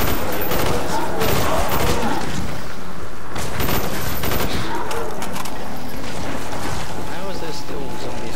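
M16 rifle fire in Call of Duty zombies mode on the Kino Der Toten map, dense rapid loud bursts of shots over a constant noisy din of game effects, with a voice talking.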